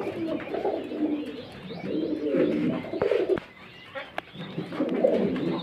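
A breeding pair of pigeons at a small loft, soft repeated throaty cooing close by, with faint background noise and a couple of sharp clicks.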